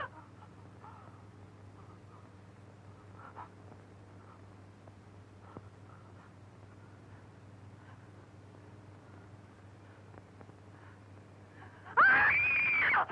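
A single loud, high scream bursts out suddenly at the very end, following a long stretch of quiet, low room hum.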